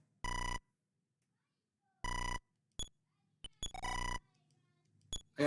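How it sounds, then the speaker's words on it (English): Electronic telephone ringing from the NES-era video game Earthbound Beginnings, several bright buzzy rings in short bursts separated by gaps, with brief game beeps and a voice between them. "Telephone."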